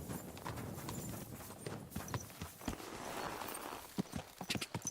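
Horse hooves clip-clopping in Kingdom Come: Deliverance 2, an uneven run of close, distinct hoofbeats that grows sharper and more frequent toward the end, with no talk.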